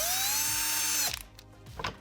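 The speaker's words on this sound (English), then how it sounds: "This uses a pair of mounting screws that we need to locate and drill holes for." A cordless drill fitted with a 2.5mm bit whines loudly as it spins up and bores a mounting hole on a 3D printer. It then stops abruptly, followed by a few faint clicks and handling noises.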